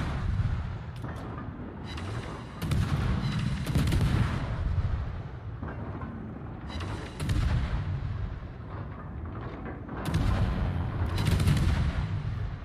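Heavy naval guns boom in repeated rolling salvos from warships, a Tier 6 Pan Asian light cruiser battle in World of Warships on the Northern Lights map, with loud bursts and rumbling decay between volleys.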